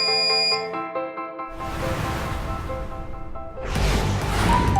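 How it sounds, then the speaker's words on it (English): A laboratory drying oven's timer alarm goes off as the set time runs out, a loud electronic tonal beeping that is broken up by bursts of broadband noise. "When set time is over, as you can see, the alarm sounds and the heating process is stopped."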